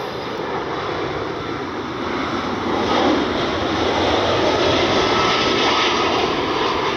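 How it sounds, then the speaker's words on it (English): A FedEx jet airliner inbound from Memphis roars steadily overhead, a loud broadband engine rumble that swells slightly partway through and holds near and constant to the end. "FedEx inbound from Memphis."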